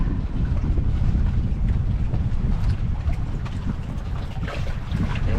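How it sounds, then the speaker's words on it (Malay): Wind blowing steadily across a fishing raft house at sea off Kuala Penyu, Sabah, a continuous loud rushing roar with low buffeting rumble and faint water movement, no talk. "Yang best sekarang berangin lah."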